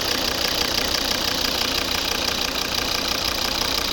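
A 2012 Volvo V50 2.0 D3 five-cylinder diesel with automatic gearbox runs steadily at idle, a close, even, slightly knocking engine drone that holds constant throughout with no talk.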